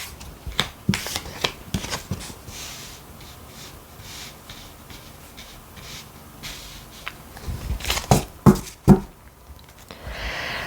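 Tarot cards are shuffled and drawn during a relationship reading, giving soft rustling and riffling with sharp slaps and flicks. The handling is close and intermittent, with a louder flurry of cards near the end and no talking.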